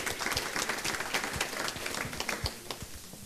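A conference audience gives scattered, light applause, faint and fairly short, with individual claps distinct and thinning out toward the end.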